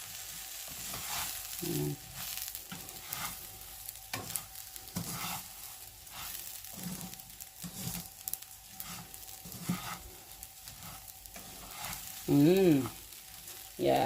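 Sautéed basmati rice with turkey breast, small vegetables and freshly grated ginger being stirred in a pan, with soft scraping strokes and a light sizzle. A voice speaks briefly, and a sharp scrape or squeak sounds near the end.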